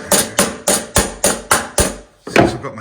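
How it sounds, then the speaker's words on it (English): A hammer drives staples into an original plaster wall with seven sharp, evenly spaced blows, close and loud, followed after a short pause by one more strike. "Just see them home with the hammer."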